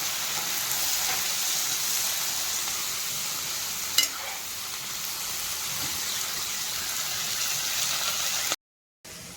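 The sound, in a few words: chillies frying in oil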